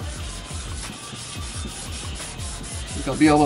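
Rhythmic back-and-forth sanding strokes rub fine-grit sandpaper over a plastic Vibe kayak hull, steady and close, with a voice speaking briefly near the end.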